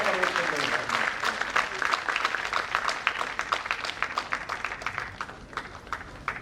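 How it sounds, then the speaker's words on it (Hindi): Audience applause at a kavi sammelan, a Hindi poetry gathering held for Holi Milan: steady, dense clapping from a crowd that holds through the whole stretch and eases slightly toward the end. "एक बार जोरदार तालियों से समर्थन दे।"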